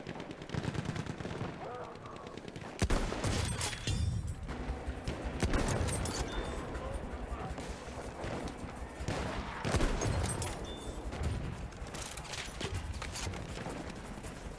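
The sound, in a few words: Mars Automatico gunfire in video game Battlefield 1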